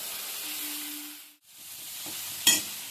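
Turmeric-laced spice paste being sautéed in a pan, a soft steady sizzle and frying hiss with brief stirring scrapes, a short pause midway and a louder clatter near the end, no voices.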